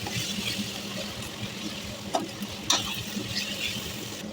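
Veg fried rice with green chilli sauce being stirred in a hot pan, a steady sizzle with a couple of sharp scraping knocks from the spatula about halfway through.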